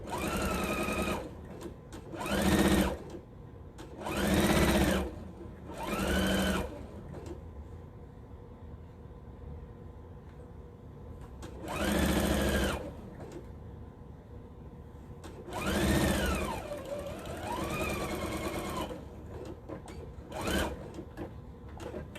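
A Juki industrial sewing machine stitching a red-and-white tea towel in bursts of rapid mechanical chatter, several short runs separated by pauses, close and clear with no talk.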